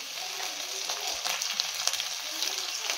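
Onions frying in a pan for a brinjal dish, a steady close hiss and crackle of sizzling oil with faint stirring scrapes throughout, no voices.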